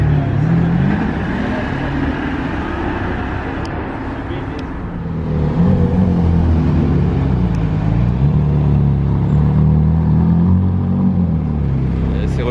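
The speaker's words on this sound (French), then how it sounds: "C'est reparti pour le défilé des voitures." Cars roll past during a car parade of exotic models, a continuous deep engine rumble that swells louder midway as vehicles pass close, with no voices over it.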